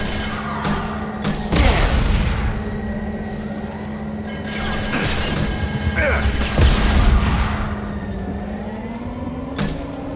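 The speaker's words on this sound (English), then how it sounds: "Firing a high-impact shot!" Gunfire and heavy explosions in the video game Mass Effect 2, with repeated booming blasts and crashing impacts over a steady droning hum, loud and close, with voices calling out amid the combat.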